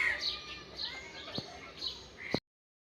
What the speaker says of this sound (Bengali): পাখির ডাকগুলো খুবই ভালো লাগে।